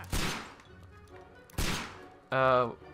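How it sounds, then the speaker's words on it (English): Two loud gunshots from the Sherlock Holmes: Crimes & Punishments game, about a second and a half apart, each with a sharp crack and echoing tail, followed by a brief voiced exclamation. "Sir, why are you shooting randomly?"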